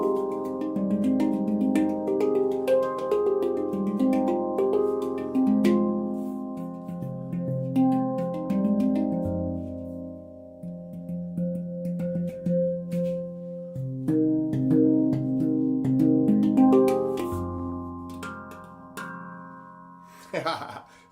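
Melodic handpan in F2 low pygmy scale played at a steady pace, ringing metallic tones overlapping and sustaining, clear and close with no talk, ending in a brief rattle.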